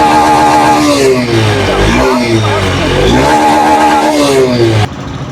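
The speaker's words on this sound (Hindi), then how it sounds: "तो जैसे मैं इसका एक्सीलेटर लेता हूँ" A Honda Livo 125 BS6 motorcycle with its relay removed revs up and down in rising and falling sweeps, loud and close, then drops back toward idle near the end.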